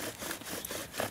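Rhythmic scraping friction of a bow drill's wooden spindle grinding back and forth against wood in the woods, close and steady in short strokes.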